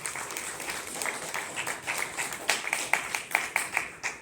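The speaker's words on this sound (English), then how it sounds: "One more round of applause for our previous speaker and to Vanessa for organizing tonight's speakers" A room at a political training event applauds a previous speaker and the organizer, with a brief burst of clapping in which a few close, sharp claps ring out over lighter background applause.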